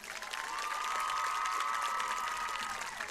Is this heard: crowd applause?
yes